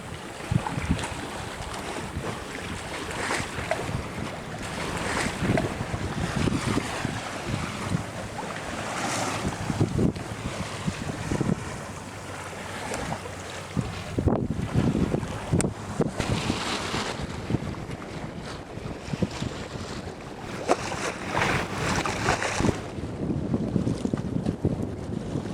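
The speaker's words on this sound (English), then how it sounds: "that's this sound here of the waves gently lapping" A sailing boat moves along with waves softly lapping and splashing against the hull, under a steady wash of wind; no voices.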